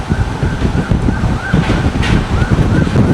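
Strong super typhoon wind outside roaring constantly, loud and gusty, with buffeting rumble against the microphone and no voices.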